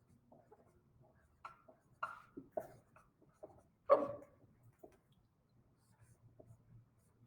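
Pen scratching on paper while pedigree labels are copied in a genetics lecture, a close, quiet series of short irregular strokes with pauses between, heard alone.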